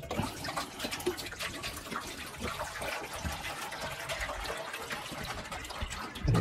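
Warm water pours and splashes continuously into a container, a steady close gushing sound with no talking.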